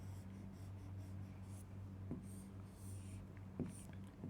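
Pen writing by hand on paper, soft scratchy strokes spread over a low steady hum, with a couple of slightly sharper marks and no clear talk.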